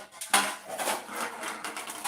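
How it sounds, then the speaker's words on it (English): Metal baking pans, size 6 and size 7 cake tins, clatter and clank as they are handled and set down in a home kitchen, one sharp knock followed by a string of lighter rattles. "Here comes my baking pans."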